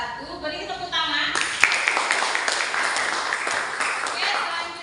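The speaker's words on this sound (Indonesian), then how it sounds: "Beri tepuk tangan." Classroom applause breaks out for a student group's presentation, a few seconds of dense, moderately loud clapping following a teacher's short spoken remark.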